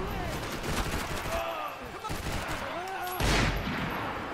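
Shotgun fire in the Max Payne 3 video game, heard as rough, booming blasts in a noisy gunfight, with a loud close burst near the end and faint voices in the background.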